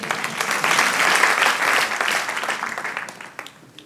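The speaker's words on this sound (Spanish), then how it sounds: "Dar un aplauso al Señor." A crowd claps steadily and loudly at a church service, swelling then tapering off into scattered claps near the end.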